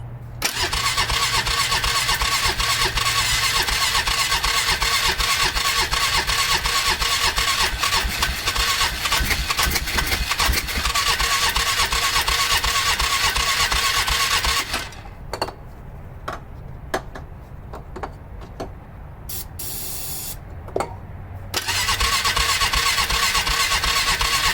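A 1995 Polaris Magnum 425 ATV with a sticking throttle fires up and runs at a loud, steady idle for about fifteen seconds, then drops to quieter, uneven sputtering before surging back to a full, constant engine roar.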